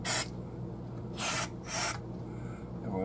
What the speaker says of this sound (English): I'm going to go ahead and start spraying some in there.